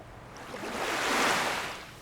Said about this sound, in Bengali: এই পানির যে স্রোতটি দেখতে পাচ্ছেন এটা হচ্ছে আমাদের জাহাজের পিছন দিকের